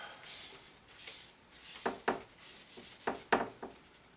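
Palette knife scraping gray oil paint off a painting palette, heard as soft rhythmic rasping strokes with a few sharper scrapes, close and fairly quiet, with no talking.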